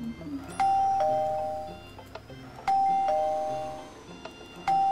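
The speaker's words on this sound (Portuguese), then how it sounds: "Não escuta a campainha, não?" A video game doorbell in Minecraft rings three times at even intervals, each a clear two-tone ding-dong that fades out, with faint game background between rings.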